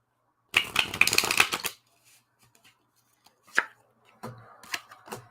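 A deck of playing cards is riffled and shuffled in a quick, dense burst of flutters, then sits quiet before a few softer, scattered card sounds and taps follow.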